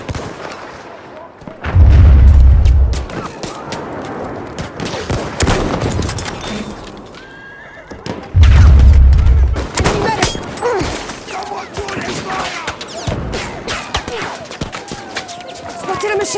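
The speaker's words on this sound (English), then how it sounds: "Machine gun!" Machine gun fire and battle noise in Battlefield 1, loud bursts of gunfire with heavy booming impacts around two and eight seconds, with a voice talking over parts of the action.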